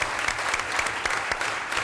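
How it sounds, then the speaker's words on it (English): Council meeting audience applauding a team for its perfect season, dense sustained clapping from a room full of people, loud and even throughout the short burst. "Let's give them one more round of applause."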